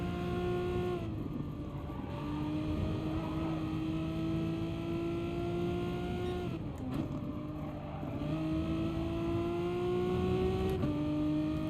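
A car engine in the racing game GT Sport revs hard and steadily climbs through the gears, with sharp drops at each shift around the second, seventh and eleventh seconds, loud and continuous throughout.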